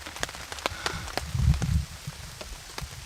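Heavy rain pours down in a swamp, a dense patter of drops striking surfaces with sharp individual taps and a brief low rumble partway through, no voices present.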